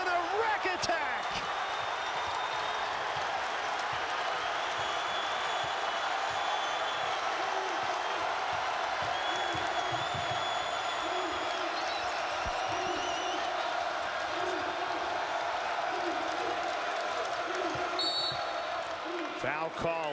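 A basketball arena crowd at an NC State Wolfpack home game against Georgia Tech, a steady broad roar of fans cheering throughout with sneaker squeaks and bouncing ball faintly audible, a commentator talking over it.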